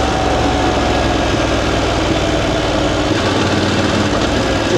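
VOGE DSX 900 motorcycle engine running close and loud with a steady low rumble and vibration, revs settling lower near the end, no talk.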